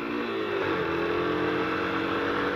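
A motorcycle engine with faulty ignition hums steadily with a slight rise in revs, a mid-pitched drone running throughout without any talking.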